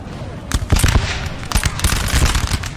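Scattered musket volleys crackle across a Napoleonic Total War 3 battlefield, bursts of overlapping shots at mid-distance under a constant din of battle, with a voice talking briefly.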